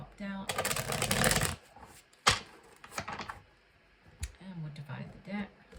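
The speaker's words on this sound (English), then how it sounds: "I'll do one last shuffle here" A deck of tarot cards is shuffled by hand in bursts of riffling and soft clicks, close and fairly quiet, with some light handling noise between.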